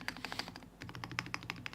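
A mechanical keyboard with O-ringed keys is typed on in a quick, uneven burst of soft, damped thunking keystrokes, quiet and close with no talk.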